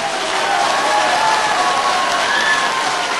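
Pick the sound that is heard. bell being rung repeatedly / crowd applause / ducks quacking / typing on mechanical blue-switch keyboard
crowd applause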